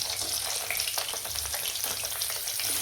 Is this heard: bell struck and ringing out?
no